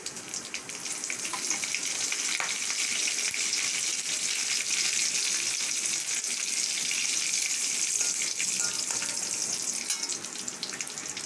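Vadagam and cumin seeds frying in hot oil over a medium flame, giving a steady, dense sizzle and crackle that stays even and close throughout.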